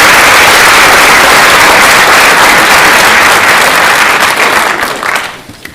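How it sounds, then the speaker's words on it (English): Loud, dense round of applause from the audience at a physician assistant white coat ceremony, sustained clapping that fades out near the end. "please still join me in a round of applause for her"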